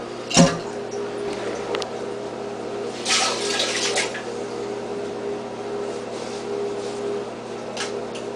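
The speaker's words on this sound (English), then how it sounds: "I have to get some sponge and a bucket and do some manual labor to get the water out of here" Water squeezed from a sponge into a bucket during a manual cleanup, heard as a few short splashy bursts near the start, in the middle and at the end over a steady electrical hum.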